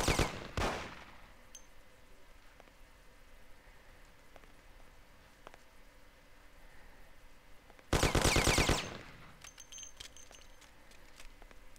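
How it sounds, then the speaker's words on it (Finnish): Bursts of machine-gun fire from the game Mafia: a short rattling volley at the start, then a longer, louder burst near the end. Quiet ambience fills the gap, with a few faint clicks between the bursts. "ammutte turhaan ja sitten menetätte kaikki ammuksenne"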